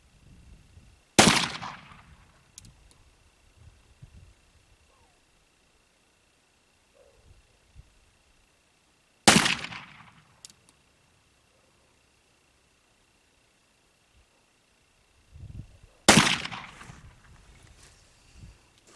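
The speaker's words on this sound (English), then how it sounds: "So I'm going to get these next 3 rounds shot off, see where they impact" Three loud, sharp shots ring out from an 1861 Navy black-powder revolver, each separated by several seconds of near silence, outdoors with faint rustling between them.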